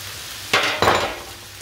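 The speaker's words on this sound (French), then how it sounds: "on laisse bien griller nos haricots verts" Green beans grilling in a pan with pepper, giving two short bursts of close sizzle about a quarter second apart against a quiet background, then settling to a faint hiss.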